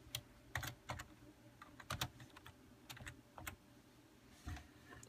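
Keys on a computer keyboard clatter in quick irregular bursts of taps, including repeated backspace strokes, close and fairly quiet with short pauses between runs.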